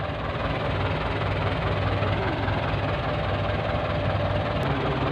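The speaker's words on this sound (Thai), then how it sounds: "รถไถฟอร์ดติดลม" A single-cylinder Ford farm tractor engine runs steadily at a rural village worksite, a loud continuous low chugging drone with constant vibration throughout and no speech.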